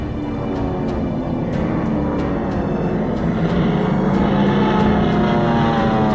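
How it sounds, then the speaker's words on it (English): Propeller warplane circling over a target during the 1945 Iwo Jima battle, a steady droning engine hum held at constant loudness throughout, with no voices. "Support Air Director contacts carrier plane circling the target."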